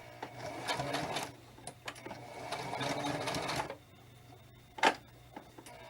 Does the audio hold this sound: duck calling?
no